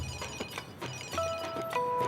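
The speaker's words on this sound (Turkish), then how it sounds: "Telefon." A telephone rings with a steady electronic trill in a home setting, fairly loud and continuous over a noisy background.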